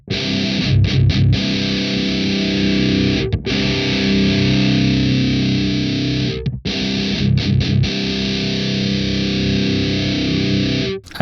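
Heavily distorted death metal guitar through the This Heavy Earth Flesh Rot amp sim, loud, dense chugging riffs with brief silent breaks between bursts, no voices.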